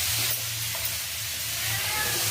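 Grated carrots sizzle in melted ghee in a pan while carrot halwa is being cooked, giving a steady, soft broadband hiss throughout with no voices.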